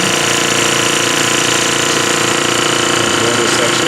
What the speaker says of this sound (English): Turn on the vacuum line.